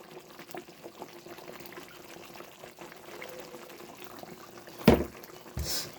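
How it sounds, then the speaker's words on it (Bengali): Ghee poured into a prawn malai curry in a home kitchen, a short liquid splash near the end after a quiet stretch of faint simmering, followed by a brief second pour. "নামানোর আগে আমি দিয়ে দিচ্ছি একটু ঘি।"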